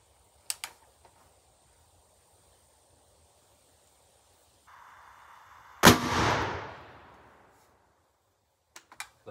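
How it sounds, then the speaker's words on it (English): A .50 caliber black powder rifle fires a Hornady 240 grain XTP sabot bullet in a single sharp, loud shot, followed by a brief decaying roar. Quiet clicks come before and after the shot. "That was very mild shooting, and we did not get a velocity on that one."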